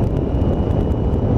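A Triumph Tiger 800 motorcycle on gravel makes a loud, close, rough rumble of engine and crunching tyres mixed with wind buffeting over a short stretch.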